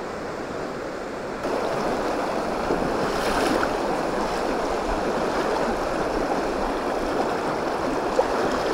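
Shallow side stream of a river in Te Urewera, New Zealand, being waded across: steady close rushing and splashing water that swells a little after the start, with light wind on the microphone and no talking.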